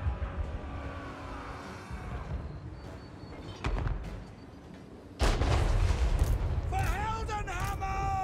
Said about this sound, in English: they shoot a big, big cannon shot. It lands somewhere. And does a major explosion.